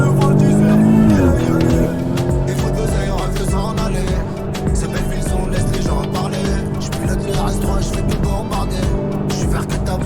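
A car accelerating hard with tires squealing and skidding, loud engine revving close by under a dense mix, with people talking over it.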